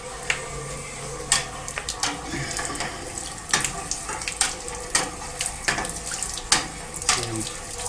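Water gushes steadily from a hose during a steam boiler washout, a continuous close splashing rush with repeated sharp clanks and knocks on top and a faint voice in the background.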